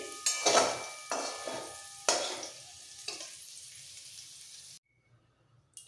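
Fried vegetables lifted out of a wok, heard as three or four distinct metal scrapes and clatters of a spatula against the pan, each fading out, over a soft sizzle that drops to near silence at the end.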